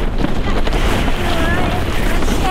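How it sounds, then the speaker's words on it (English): A sailboat coming about during a tack, with steady wind roar and water rush against the hull filling the whole stretch, close to the microphone. "we'll start the tack now. That's it, so as it comes over"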